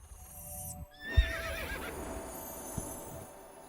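Video game horse in Star Stable gives a clear whinny in the middle, with soft clip-clop hoofbeats and game background sound around it; no talking.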